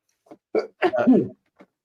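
A single close sneeze, a short sharp burst of breath with a voiced tail, preceded and followed by small intakes of breath, in a quiet room.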